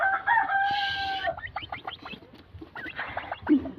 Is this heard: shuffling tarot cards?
no